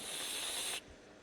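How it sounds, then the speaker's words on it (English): A spray can of cheese hisses in a survival video game, a steady bright aerosol spray lasting under a second before abruptly cutting off into quiet background. "Nothing like a guy inhaling cheese spray."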